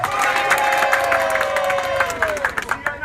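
A large crowd at a rally for a president-elect in Tokombéré cheers, whoops and applauds in a loud, continuous roar, with clapping bursts standing out near the end.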